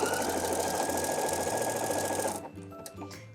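Sewing machine stitching a seam on a t-shirt, a steady loud continuous mechanical whir with rapid needle rhythm that stops abruptly partway through, leaving a few quieter clicks and handling sounds.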